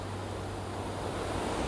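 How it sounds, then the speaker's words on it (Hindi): Sita Falls waterfall in Jharkhand during the monsoon, water falling fast: a steady, dense roar of rushing water with a low rumble, constant and loud throughout. "भाई साहब कितना तेजी से पानी गिर रहा है"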